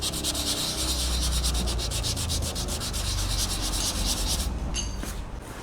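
Steady, continuous rubbing of hand sanding on a car hood, worked in circular motions to smooth the hard edges of stone chips in a home garage before painting; close and constant, with no talk.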